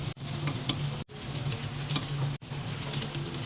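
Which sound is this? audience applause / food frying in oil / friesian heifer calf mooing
food frying in oil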